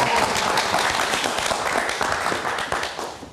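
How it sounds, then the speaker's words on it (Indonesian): Studio audience at a live comedy talk show clapping for guest Cing Abdel, a dense, fairly loud burst of many hands that holds steady, then thins slightly at the end. "Kita kasih tepuk tangan untuk Cing Abdel"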